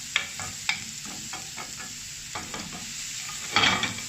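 Onions fry in bacon fat with a constant sizzle while a utensil scrapes and stirs the pan in repeated close strokes, and a louder scraping burst comes near the end.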